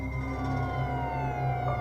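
Police and ambulance sirens at a road accident scene between a motorcycle and a car, wailing tones sliding up and down over a steady low rumble, moderately loud with no voices.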